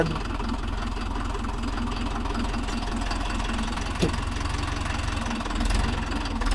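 A Mahindra Yuvo Tech Plus 585 DI tractor engine runs at a steady idle with an even knocking diesel throb, moderately close, and one brief sharp knock partway through.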